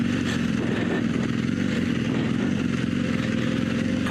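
Motorcycle engine held in first gear while descending a hill with light front braking during a Michelin Anakee tire test, a steady low rumble with continuous road and wind noise throughout.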